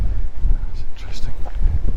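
Gusty wind buffeting a microphone outdoors near Belas Knap, heard as uneven low rumbling bursts that rise and fall, with a voice speaking over it.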